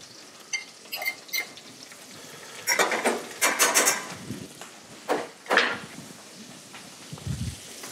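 Pigeon cooking in a pan with butter, bursts of crackling sizzle and spattering with scrapes and clinks of utensils against the pan, close and intermittent, no talking.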